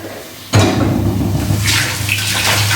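Hot water pours off a pot of boiled eggs into a sink, starting abruptly as a loud, steady gush and splash that runs to the end.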